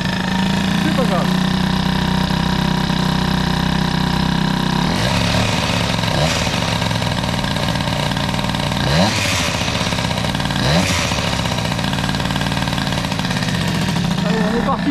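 A Peugeot 103 moped fitted with Doppler parts and a cylinder head runs close by, idling rough then revving in several sharp bursts, buzzy and loud, with voices talking over it.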